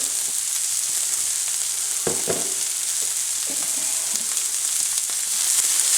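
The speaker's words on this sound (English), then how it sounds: "we are going to take about half of our garlic and add that to the pan" Garlic sizzles in a hot pan of vegetables for Cajun chicken and potatoes, a loud, steady frying hiss with a few stirring clatters in the middle.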